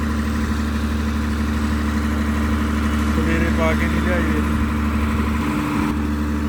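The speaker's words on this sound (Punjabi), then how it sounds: "ਲੇਲੈਂਡ ਦਾ ਚੱਲਦਾ ਜਨਰੇਟਰ" A Leyland diesel generator drones steadily at a low pitch throughout during rain, with people talking over the engine noise.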